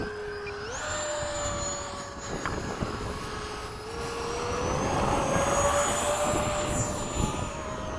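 An FMS 80mm Hawk electric ducted-fan model jet taking off: a loud, rising turbine-like whine that holds steady and swells slightly as it accelerates away, with no voices.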